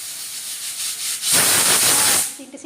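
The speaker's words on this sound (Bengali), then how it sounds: "3টে সিটি বেজে গেছে।" Pressure cooker steaming hilsa fish on a gas stove, a soft hiss that swells into a loud, sharp whistling burst of steam, then cuts off abruptly, close and alone.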